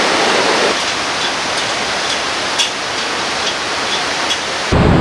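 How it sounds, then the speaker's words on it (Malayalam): A waterfall at a Munnar resort pours in a dense, continuous rushing hiss, loud and close, swelling slightly at the start and end. "ഇവിടുന്ന് താഴേക്ക് ഒരു വെള്ളച്ചാട്ടമാണ് കേട്ടോ"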